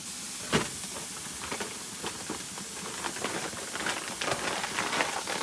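Ground beef sizzling on a hot grill just after being slapped down, a continuous close hiss and crackle with scattered sharper pops, moderately loud and steady.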